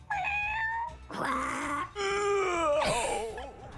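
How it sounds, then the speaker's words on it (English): Several distinct video game cat meows in a row, each with a different pitch and character, clear and close with no talking. "the cat's meows come from a vast selection of different randomly selected voices"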